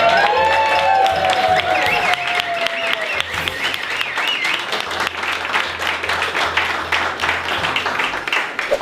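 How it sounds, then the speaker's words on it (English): An audience claps for a workshop team at an evening event, a dense sustained round of applause filling the whole stretch, loud and close, with a few voices rising briefly near the start. "let's give them a little clap"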